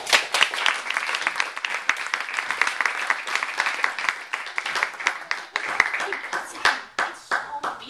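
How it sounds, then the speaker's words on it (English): A live audience claps in dense, sustained applause at a literary clown performance, with steady broadband clatter of many hands and some voices mixed in, fading toward the end. "Ladies and gentlemen, another round of applause."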